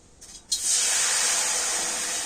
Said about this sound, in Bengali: আর এবার আমি কড়াতে দিয়ে দেব জল।